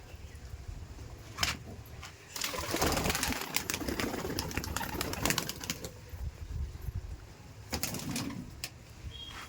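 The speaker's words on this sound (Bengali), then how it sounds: "দেখুন কালদম লালদম পায়রা দেখাবো" Laldom and Kaldom fancy pigeons in a loft, soft low cooing and fluttering wings, with bursts of movement, faint and under a quiet room ambience, no talk.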